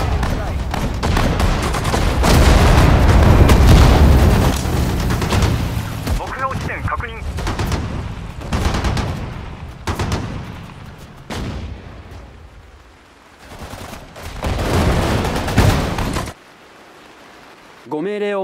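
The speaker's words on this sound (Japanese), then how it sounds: "銃弾の雨だ。" Dense bursts of gunfire and booming explosions rattle in quick succession in the video game Sudden Strike 4, Battle of Bataan mission, with brief Japanese voices breaking in between the volleys.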